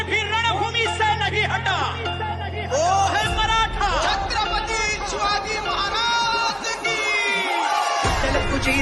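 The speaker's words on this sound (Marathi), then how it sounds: "लाखो आंदोलक जल्लोष करत गावी निघाले आहेत" A large crowd of protesters celebrates outdoors, with dense cheering, whoops and shouting chatter as one voice speaks over the hubbub.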